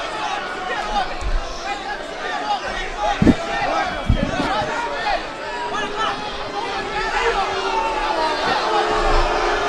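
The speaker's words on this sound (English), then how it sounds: "the crowd getting a little restless here" Restless arena crowd murmurs and calls out at an MMA fight, a steady babble with scattered shouts and a few sharp thuds, commentators talking over it.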